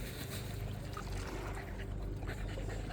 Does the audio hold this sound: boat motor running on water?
yes